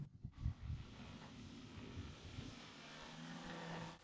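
A remote-controlled VTOL aircraft with new servos flies away, its faint motor drone holding steady at a distance over low outdoor noise.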